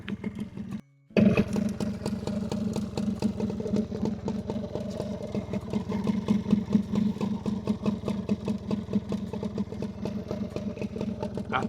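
A motorcycle fitted with a sidecar runs steadily at close range after a brief cut at the start, its engine holding a loud, even idle-like thrum with rapid regular pulses.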